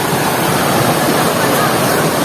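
Loud, steady rushing water roars without a break, a dense broadband wash like a nearby waterfall.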